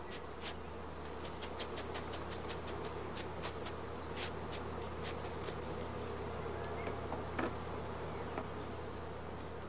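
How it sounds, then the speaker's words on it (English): Honey bees buzzing in a dense, steady hum as they are brushed from comb frames into a crowded nursing colony during queen rearing, with occasional sharper wingbeat bursts and a low mechanical drone beneath. "All other bees from the remaining frames are brushed into the nursing stock."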